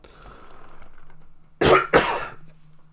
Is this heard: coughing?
yes